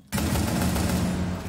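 Gunfire in a tactical first-person shooter, a sudden loud burst that opens after a brief quiet moment and sustains as a dense, rapid volley for over a second before tapering slightly.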